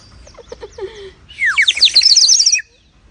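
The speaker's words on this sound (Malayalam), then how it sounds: "കിളി കരയുന്ന സൗണ്ടാണോ?" Water-filled bird whistle toy being blown, giving a few short chirps followed by a loud, rapid warbling trill, close and clear, then silence.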